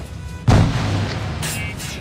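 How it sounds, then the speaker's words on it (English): A grenade explodes in the Assassin's Creed 4 Black Flag video game, one sudden deep boom that decays over a second, followed by a softer burst, with no talking. "He's throwing grenades at me."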